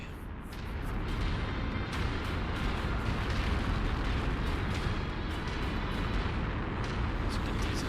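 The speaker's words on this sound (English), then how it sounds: "Taking heavy fire." Heavy gunfire and explosions in a combat video game, a dense continuous roar of shots and blasts with scattered sharp cracks throughout, fairly loud and steady, with speech mixed in.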